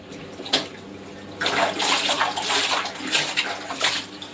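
Beef tripe is rinsed in water, with sloshing and splashing from hands working it in a vessel, coming in irregular close bursts over a low background hum.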